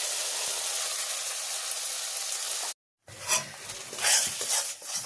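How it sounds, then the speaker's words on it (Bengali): Green chili, ginger and ground pea paste are stir-fried in a pan with steady loud sizzling, then after a brief cut a spoon scrapes and stirs in bursts against the pan, with no talk. "কাঁচা লঙ্কা, আদা আর মটরশুঁটিটা একটু নাড়াচাড়া দিয়েছি।"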